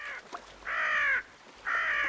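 A crow caws twice, loud harsh calls separated by a short pause, with a faint chirp in between.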